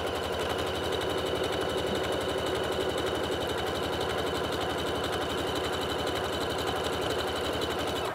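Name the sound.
sewing machine sewing a 3-step zigzag stitch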